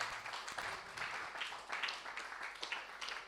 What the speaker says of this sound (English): Shall we give a clap of everyone to the Lord?